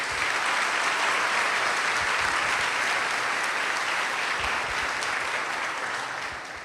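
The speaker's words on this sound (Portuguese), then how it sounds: "Uma salva de palmas para as mães." Audience applause for mothers during a motivational talk on burnout, a steady, dense wash of many hands clapping that holds loud throughout and fades slightly at the end.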